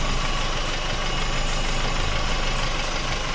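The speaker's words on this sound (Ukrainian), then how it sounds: "Двигун повністю прогрітий, ось так він працює у нас." A fully warmed-up Citroën C4 1.4 16v engine idles steadily up close, a constant rumbling hum with a faint regular ticking rhythm and no voices.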